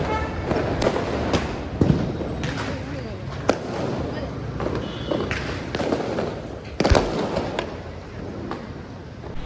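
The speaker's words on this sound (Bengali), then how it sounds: "আকাশে বিভিন্ন রকম বাজি ফুটতে দেখলাম" Diwali and Kali Puja fireworks bursting in the night sky, sounding as a handful of sharp distant pops and bangs scattered over a steady background, with people talking throughout.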